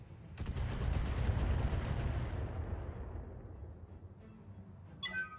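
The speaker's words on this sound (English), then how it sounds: "Oh, missiles from the black." A rapid volley of enemy missiles from the black in the BattleTech mech game, a loud burst of rattling launches and impacts that fades out over a few seconds into quiet.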